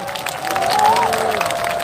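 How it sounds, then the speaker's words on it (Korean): A crowd applauds at an outdoor rally mass held by Catholic priests, a brief wash of loud clapping that swells and then holds, with a sustained tone sounding over it. "여러분들 박수 한번 쳐주십시오"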